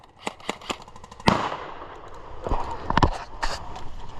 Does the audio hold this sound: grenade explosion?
yes